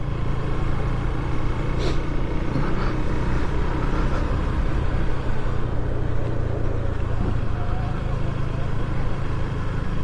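A KTM Duke 390 motorcycle riding on a UK road, its engine a steady mid-pitched drone mixed with constant wind rush that holds level throughout, with a couple of brief bumps and no speech.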